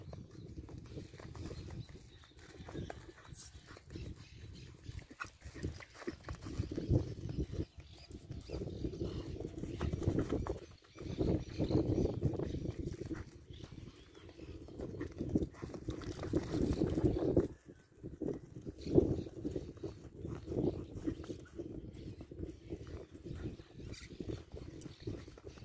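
Gentle working ranch horse, shod on all four hooves, moving at work: irregular dull hoof thuds and clops with rustling and movement noise, fairly faint and uneven throughout.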